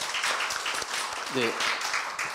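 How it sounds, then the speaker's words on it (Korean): An audience at a public-sector labour union forum claps in steady applause to welcome the next presenter, with a brief spoken acknowledgement cutting in partway through. "힘찬 박수로 맞이해주십시오"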